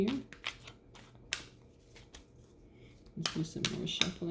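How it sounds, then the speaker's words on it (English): Quick bursts of riffling card shuffling, soft and close, with scattered snaps of cards and a low murmur of a voice between them. "Let's do some more shuffling here."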